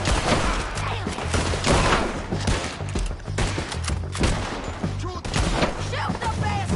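Heavy battlefield gunfire in a PS4 shooter, a thick fusillade of overlapping shots rattling throughout, with faint shouting voices mixed into the din.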